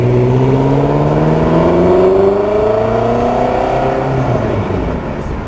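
A Lotus Esprit V8 with a 3.5-liter twin-turbo engine revs loudly and continuously in Need for Speed 2, its rising engine note climbing steadily through the gears, close and alone.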